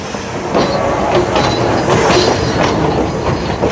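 A steam engine train on Australia's Q Train line rolls through a track change, its wheels clicking and clattering in a steady, loud mechanical rumble close by.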